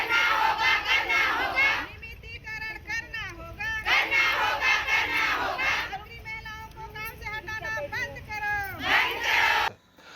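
Crowd of striking women from a rural livelihood mission in Bhanupratappur, Kanker, shouting slogans in loud rhythmic bursts, near and energetic, chanting in unison with brief pauses between calls.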